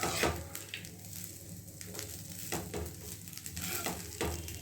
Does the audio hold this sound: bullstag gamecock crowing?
no